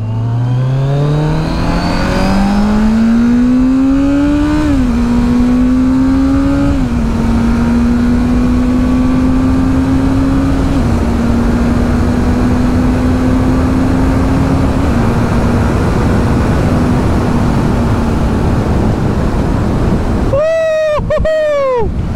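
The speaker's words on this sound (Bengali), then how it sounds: "দেখো ভাইয়ের বাইকের সাউন্ডটা দেখতে পাচ্ছ, আমার বাইকেও এরকম সুন্দর সাউন্ড হতো" A Kawasaki Z900 with a modified exhaust drones loudly on a monsoon road ride, its engine note climbing through several gear changes and then holding a long steady roar before a few sharp revs at the end.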